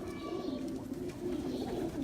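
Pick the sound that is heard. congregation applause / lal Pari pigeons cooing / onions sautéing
lal Pari pigeons cooing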